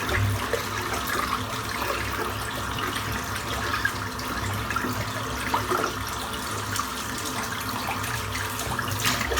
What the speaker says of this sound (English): Just rinse the soap out.